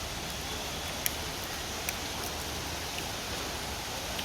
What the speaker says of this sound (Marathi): बारीक आहेच आहे पाऊस.